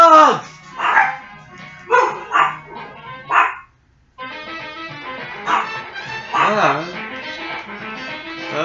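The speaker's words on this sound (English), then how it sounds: "Shut up, dog!" A dog barks repeatedly in short yapping bursts, with a brief pause midway before the barking resumes, over a voice talking.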